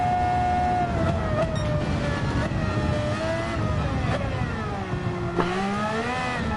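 Senna's McLaren race car in Gran Turismo 7 drones steadily, its engine pitch rising and falling through gear changes and throttle lifts, fairly loud and continuous with no talk over it.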